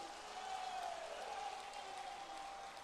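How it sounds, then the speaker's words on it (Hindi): Audience applause at a public speech unveiling a statue of Samrat Prithvi Raj, a soft, steady patter of many hands heard from a distance, with a faint tone running underneath. "उनका स्वागत किया जाना चाहिए, तालियां बजाकर किया जाना चाहिए।"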